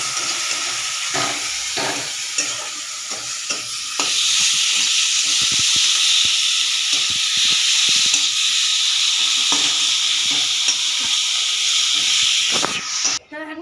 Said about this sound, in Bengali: এটা সেদ্ধ হতে থাকলো আর এদিকে আমি মশলাটা কষতে থাকলাম